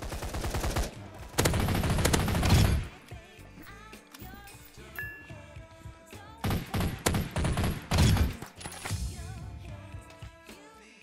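Bots in the video game Blitz Arena fire guns in several loud bursts of rapid gunfire with gaps between them. Quieter in-game sounds fill the gaps.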